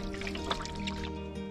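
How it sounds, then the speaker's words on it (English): Lake water trickles and drips steadily into a container while being collected for a Katadyn gravity water filter at a Mink Lake campsite in Algonquin Provincial Park, a continuous close liquid sound without speech. "just getting some water for our Katadin gravity water filter"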